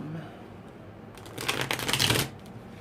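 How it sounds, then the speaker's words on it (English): A deck of tarot cards is riffled and shuffled close by, a dense crisp fluttering burst lasting about a second that swells and then stops, following a quiet lead-in. "So I want to make sure their cards are very mixed up and random."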